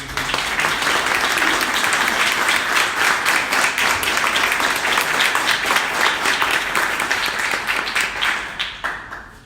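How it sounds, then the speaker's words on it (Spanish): A conference audience at a panel on Nicaraguan journalists bursts into sustained, dense applause that stays loud and steady for about nine seconds before tapering off at the end. "quería que le dieran un gran aplauso de nuevo"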